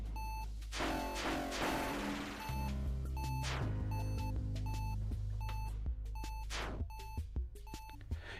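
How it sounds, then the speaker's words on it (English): Beeping sounds in Axiom Verge 2 as a regular series of short, evenly spaced electronic beeps repeating through the clip over deep game music and effects. "they really had the foresight to make the beeping noise"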